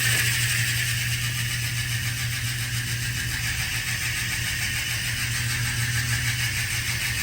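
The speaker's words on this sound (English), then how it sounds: "Here comes the free body sound test on these DT Swiss 240 hubs, MVAR disc wheels." A DT Swiss 240 rear hub on disc wheels, fitted to a Specialized Venge ViAS road bike, freewheels with a continuous, loud, dense ratcheting buzz that holds steady from start to finish with no voices.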